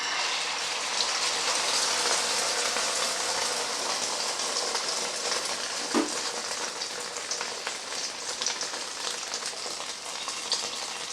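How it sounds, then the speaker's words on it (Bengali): Beaten egg poured into hot oil on a flat tawa sizzles steadily, a loud, even, rain-like hiss that holds for the whole stretch with small crackles and one soft knock partway through. "তেলটা গরম হয়ে গেছে, এবার আমি ফেটানো ডিমটা এর মধ্যে ঢেলে দিচ্ছি।"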